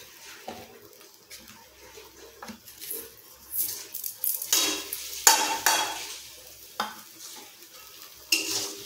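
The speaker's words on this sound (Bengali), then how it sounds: "এটা আবার যতক্ষণ না ডাই হবে, মানে শুকনো আসবে, ততক্ষণ নাড়তে থাকবে।" Bottle gourd leaves stirred in a pan until dry, with sugar and spice added: intermittent spoon scrapes and metallic clinks against the pan over a faint sizzle, close, in irregular bursts.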